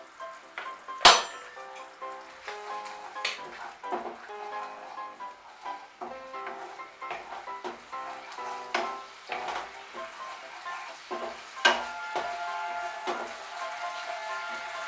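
A spoon stirs garam masala powder through a simmering gravy in a pan, giving a steady sizzle with frequent clinks and scrapes against the pan, close and clear, and one sharp knock near the start.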